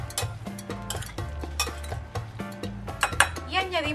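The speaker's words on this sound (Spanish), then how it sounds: "Mezclamos los caracoles con nuestra vinagreta" Mini pasta snails stirred with vinaigrette in a bowl, repeated close clinks and scrapes of a utensil against the dish in a steady mixing rhythm, with a brief voice near the end.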